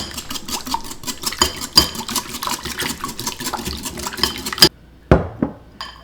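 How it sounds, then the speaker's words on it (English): Buttermilk and eggs being whisked in a bowl for pancake batter, a busy close metallic clatter of the whisk against the bowl's sides that runs steadily, then stops briefly before a few last sharp taps. "I'm using a cup of buttermilk with 2 eggs, and just whisk all this as well"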